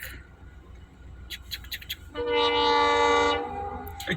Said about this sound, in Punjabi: ਟ੍ਰੇਨ ਆ ਗਈ ਉਹ ਦੇ